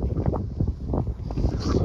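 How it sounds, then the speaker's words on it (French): Wind blowing at the seaside in Santa Pola early in the morning, a steady low rumbling buffet on the microphone with gusts rising and falling throughout, fairly close and continuous with no talk. "il doit y avoir un petit peu de vent"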